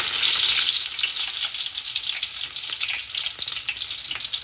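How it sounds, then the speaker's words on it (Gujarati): Loud crackling and sizzling as green chillies and curry leaves hit hot oil, a dense hiss that settles slightly over a few seconds, with occasional spatters. "હવે તેલ આપણું ગરમ થઈ ગયું છે આપણે એમાં મરચી એડ કરી દઈશું"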